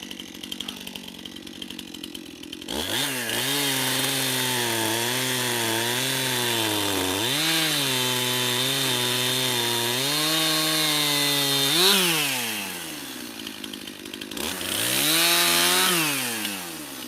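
A chainsaw revs and bogs while cutting limb wood for firewood, a loud, close engine whine that rises and falls in pitch through a long cut, drops briefly, then surges again.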